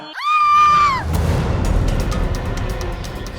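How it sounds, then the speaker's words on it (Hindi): A woman lets out one long, high, piercing scream lasting under a second, loud and close, then cuts off into a rumbling, noisy background with scattered clatter. "ये किसकी चीख थी?"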